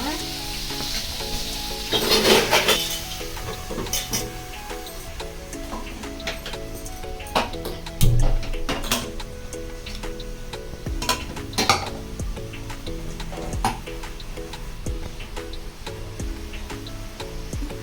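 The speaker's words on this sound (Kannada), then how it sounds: "ಇದು ಸ್ವಲ್ಪ ಫ್ರೈ ಆಗಲಿ" Prawns fry in a pan for biryani with a steady, close sizzle that runs throughout, broken by occasional metallic clinks and taps of a utensil against the pan.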